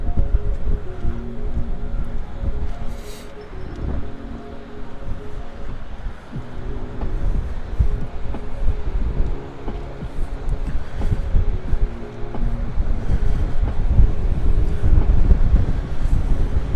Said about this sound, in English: I wish the wind would stop blowing my tripod.